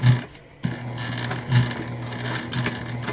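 A sewing machine runs bursts of double stitching along a small bag pocket, a steady mechanical whir with rhythmic humming pulses, close and fairly loud, pausing briefly near the start.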